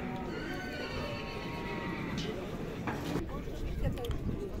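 Young horses whinny and neigh at a livestock market near Sokuluk in Chuy, with clip-clop of hooves and people talking in the background among a busy market murmur.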